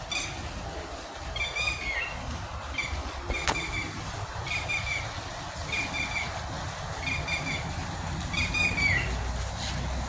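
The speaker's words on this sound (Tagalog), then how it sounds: "maliliit na ibon na kain diyan" Small birds feeding outdoors in the morning in Dubai give repeated short, high chirps and squawks in several bursts, heard against a steady hum of distant traffic.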